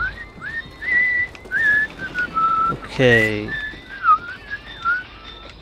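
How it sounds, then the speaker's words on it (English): A player whistling a wandering melodic tune over online voice chat in a Call of Duty Ghosts multiplayer match, thin and continuous in short phrases, with one brief spoken word in the middle. "Definitely a guy whistling."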